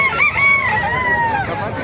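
A Belgian Black rooster crows at a bustling market, one drawn-out, fairly close crow over a steady crowd murmur.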